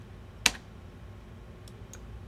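One sharp keypress on a computer keyboard lands early and close, followed by a couple of fainter clicks a moment later against a quiet room background.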